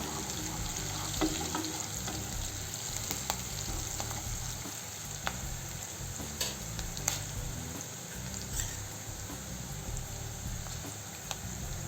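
Tondli (ivy gourd) vegetable frying in a pan with half a spoon of coriander powder, a steady close sizzle with scattered scraping clicks of a spoon stirring throughout, no voices.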